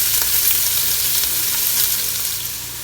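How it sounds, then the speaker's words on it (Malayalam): Onions fry in a pan for a Saudi lamb mandi, giving a loud, dense, continuous sizzle that eases slightly toward the end. "ഇനി ഉള്ളി നല്ലവണ്ണം ഒന്ന് വാട്ടിയെടുക്കാം."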